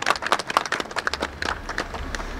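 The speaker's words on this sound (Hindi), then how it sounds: "इनका तालियों से इतना स्वागत करो" Audience clapping at a Himachal poets' conference and book launch, a scattered burst of applause from a seated crowd, fairly close and steady, with a low rumble rising near the end.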